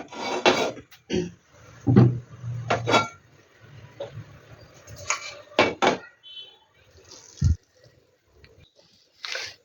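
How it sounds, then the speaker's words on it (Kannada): A pressure cooker is set down on a stove to heat for a spicy soup, with a scatter of metal clanks and knocks of pots and utensils, separated by quiet gaps. "ಈಗ ಒಂದು ಕುಕ್ಕರನ್ನು ಇಟ್ಕೊಂಡು ಕುಕ್ಕರನ್ನು ಬಿಸಿ ಮಾಡ್ಕೊತಾ ಇದ್ದೀನಿ"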